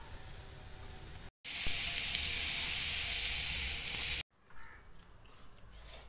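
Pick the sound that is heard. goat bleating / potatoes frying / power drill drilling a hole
potatoes frying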